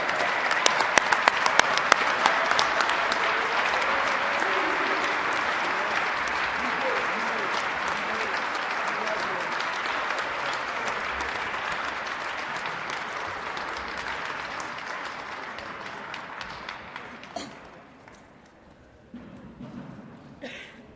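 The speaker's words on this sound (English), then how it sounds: "everybody, let's give them a big round of applause." A large audience at a 2020 Hall of Fame induction ceremony gives a long, steady round of applause for the inductees, loud and dense with sharp claps, fading away near the end.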